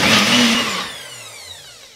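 NutriBullet blender whirring through omelette batter of eggs and other ingredients in a home kitchen, a loud motor burst that winds down and fades over two seconds, with no talk.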